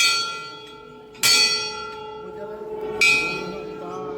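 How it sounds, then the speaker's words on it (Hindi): A metal temple bell at a Mahadev shrine in Mathura is struck twice, each bright clang ringing out and slowly decaying, close and clear over light background murmur. "हम इसे बेल बजा देते हैं, घंटी।"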